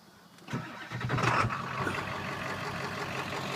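A 1996 Ford F250 with a 7.3 Power Stroke turbo diesel and straight-pipe exhaust cranks briefly and fires up, then settles into a loud, steady, gritty idle close by with no talking.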